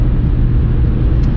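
A Honda Civic with a 1.6 engine and a leaking exhaust manifold drones with a steady, raspy, blowing exhaust note, loud and close, constant without a break.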